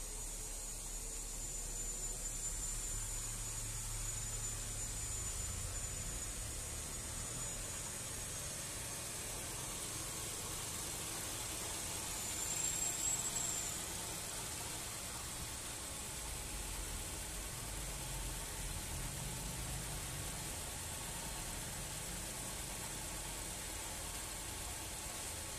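A 20-year-old Honda City i-DSI GD8, parked for a long time, idles with a steady faint hiss and low hum, unchanging throughout with a slight swell near the middle.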